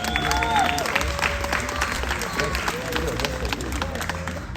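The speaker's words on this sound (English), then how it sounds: "If we give all the athletes a round of applause." An audience at a bodybuilding show applauds the heavyweight competitors, with steady crowd clapping mixed with cheering and hubbub in a large hall, a few voices and whistles rising above the noise.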